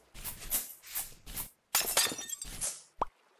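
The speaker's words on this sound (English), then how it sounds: "We do break glass, and not in case of emergency. We just break it." Glass panes shattering in the survival game Vintage Story while exploring ruins: several sharp breaking bursts in quick succession with a gap between, then a final short clink near the end, loud and alone without talk.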